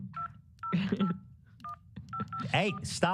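A telephone keypad gives a quick run of short touch-tone beeps in separate bursts, while a voice talks loudly over and between the tones.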